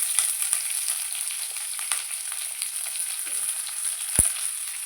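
Onion, green chili and curry leaves sautéing in hot oil, a steady close crackling sizzle with occasional stirring scrapes and one sharp pop near the end.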